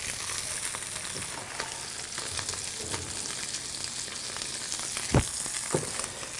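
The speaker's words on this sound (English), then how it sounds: "that just cooking that way in the pan, and it's just going to get nice and golden and crisp on the outside" Hapuku fish fillet frying in a pan, a steady close sizzle throughout with a couple of brief louder crackles or pan knocks near the end.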